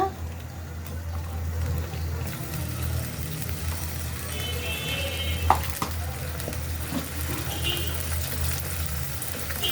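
Ginger, garlic and onion paste fries in oil with spices, a steady low sizzle and bubbling hum running throughout, with a brief sharp clink of a utensil midway.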